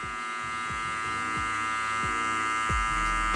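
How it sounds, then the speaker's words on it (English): Electric hair clipper with its lever open, cutting a taper fade at a barbershop: a steady close buzzing hum with several short dips and bursts as the blades pass through hair, no voices. "Next, I'm gonna open the lever on the clipper and I'm gonna come up about a ½ inch"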